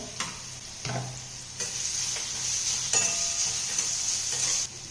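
Bitter gourd sautéing in hot oil, a steady close sizzle running throughout with a few clinks and scrapes of a spatula stirring it in the pan; no one speaks.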